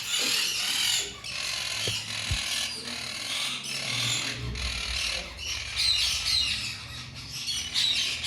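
Green and blue monk parakeet breeder pairs squawk and chirp in repeated harsh bursts at a pet shop, over a steady noisy background with a low hum.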